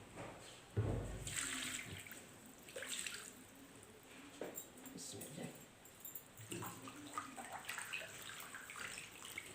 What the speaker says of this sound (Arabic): هذا نغسل